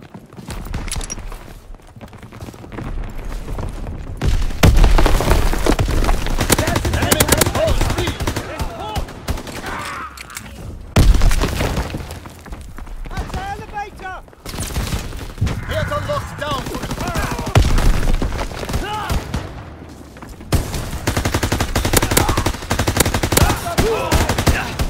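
Sustained automatic gunfire in Call of Duty: WWII multiplayer with a Grease Gun, loud rapid bursts and overlapping shots running through most of the stretch with brief lulls between.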